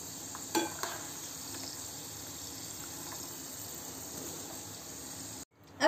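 Peanuts sizzling in hot oil in a pan, a steady soft fry with a couple of clattering bumps as they are lifted out, ending in a brief gap and a sharp knock.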